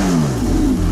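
A Porsche 918 Spyder's 4.6-liter V8, paired with electric motors on both axles, revs hard in a brief loud burst, its engine note sweeping downward as the rpm falls, close up and without speech.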